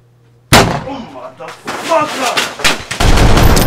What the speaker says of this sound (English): I'm gonna stop shooting